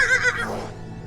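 Horse neighing in the video game Nadin, a single whinny that rises then trails off over about a second, fairly close and alone without speech.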